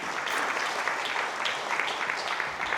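Warm, steady applause from an audience at an award ceremony honoring independence activists, welcoming the vice president of the Korea Liberation Association to the stage; continuous, even clapping without talk.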